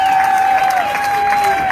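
Rally crowd in Seattle applauding and cheering, a steady wash of clapping with a sustained whistle or shout running over it throughout, loud and continuous for under two seconds.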